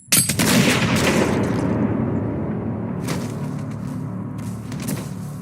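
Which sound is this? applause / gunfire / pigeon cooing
gunfire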